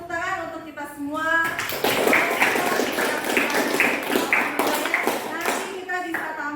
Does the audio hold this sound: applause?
yes